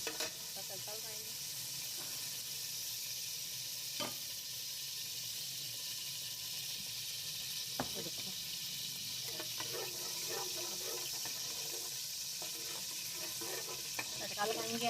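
Green cardamom pods tempered in hot oil for a sweet zarda rice dish, giving a steady soft sizzle with occasional crackles and stirring clinks, fairly close and continuous throughout.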